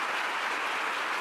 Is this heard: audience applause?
yes